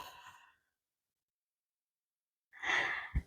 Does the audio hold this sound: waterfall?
no